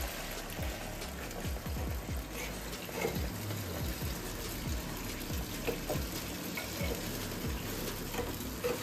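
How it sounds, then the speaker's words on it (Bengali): Water hits a hot pot of til potol curry (pointed gourd with sesame), setting off steady close sizzling and crackling bubbles that run unbroken for nine seconds with no voices. "আর এখন মিষ্টি বলতে ধুয়ে একটু জল দিয়ে দিচ্ছি।"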